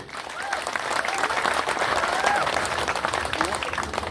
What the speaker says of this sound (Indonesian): Tepuk tangan nemu niki.